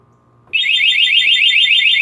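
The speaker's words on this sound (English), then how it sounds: "So it gives you a warning beep." A Craftsman truck alarm sounds its warning beep, starting abruptly after a brief quiet moment and continuing as a steady, loud, shrill electronic tone with a rapid warble.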